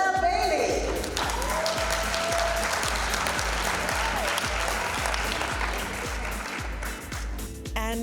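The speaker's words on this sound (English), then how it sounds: "Let's hear it for Noel Bailey." An audience applauds an awardee at a ceremony honouring 50 years of service, sustained dense clapping at an even level for several seconds over a low hum, with brief voices near the start.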